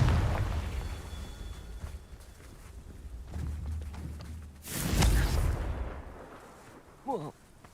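A Confringo blasting spell explodes in Hogwarts Legacy with a loud, broad boom about two-thirds through, rising out of low rumbling game ambience, and a short warbling magical tone follows near the end.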